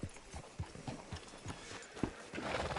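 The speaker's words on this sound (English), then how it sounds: "Hitch your horse up here." Horse hooves clip-clopping at a steady walking rhythm in the video game Red Dead Redemption 2, fairly quiet and close, with some faint background ambience.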